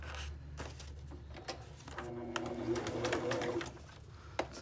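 A home sewing machine runs a straight stitch across fabric for a pocket, its motor whirring in a steady stretch, then stopping, with light clicks and taps around it.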